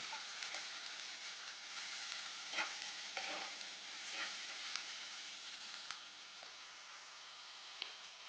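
Chopped onion stir-frying in a pan gives a soft continuous sizzle with a few light spatula scrapes and taps, faint and close, with no voices.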